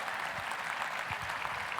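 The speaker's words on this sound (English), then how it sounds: "Round of applause for Mark." Conference audience applauding a participant named Mark at a Whataburger family reunion event, a steady even wash of clapping throughout, moderately distant and fairly quiet.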